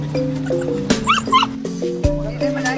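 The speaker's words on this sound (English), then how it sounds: "these, actually, to be fair, look more like the kind of dogs I was expecting to be bred for eating" Dogs bred for eating yip, bark and whimper together, close and loud, with overlapping high whines and sharp yelps in an uneven stream, mixed with a little background voice.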